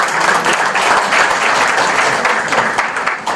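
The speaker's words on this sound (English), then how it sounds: "give one more applause for Professor" Loud, close applause from a university audience honouring a professor, a thick continuous wash of many clapping hands at a steady level throughout.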